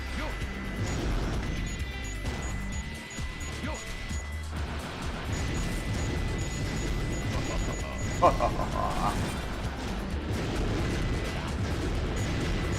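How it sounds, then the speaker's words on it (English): Eggman's egg launcher firing in Sonic Adventure 2, heavy repeated blasts and crashing impacts over a dense game soundscape, with someone talking throughout. "The egg launcher. This is a thing."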